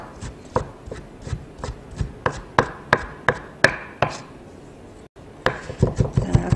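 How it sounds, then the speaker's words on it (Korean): A knife minces shredded beef on a cutting board, giving a regular series of sharp chopping knocks at close range, briefly pausing before the rhythmic chopping resumes. "채썬 소고기는 모아서 다시 한번 잘게 만들어주세요."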